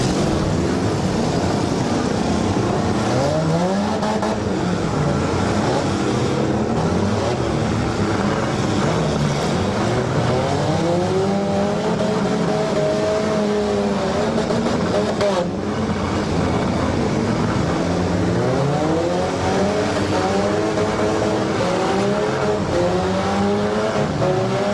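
Demolition derby car engines roar continuously at high revs at a Portage County derby, one pressed against its governor, with pitch sweeps from several machines and an announcer talking over the din.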